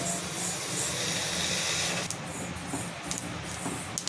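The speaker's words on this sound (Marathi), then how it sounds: "ह्याच्यामध्ये मी तीळ टाकून घेते ते सुद्धा आपल्याला भाजून घ्यायचे" Sesame seeds dry-roast in a pan at home, giving a steady dense hiss and crackle that thins into lighter scattered rustling and taps partway through.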